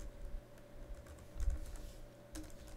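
Fingers type on a computer keyboard in a quiet room, a string of faint, quick clicking keystrokes with a few heavier taps, close and without speech.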